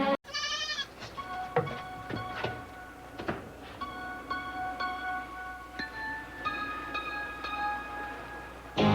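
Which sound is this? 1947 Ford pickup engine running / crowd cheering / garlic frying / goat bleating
goat bleating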